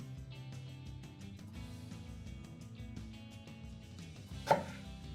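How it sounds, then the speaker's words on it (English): Potatoes being cut with a knife for seafood chowder, faint quiet cutting with one sharp louder chop near the end, over a soft tonal background. "You cut the potatoes in the manner for which you want to eat your potatoes in your soup."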